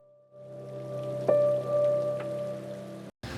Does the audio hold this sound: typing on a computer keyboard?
no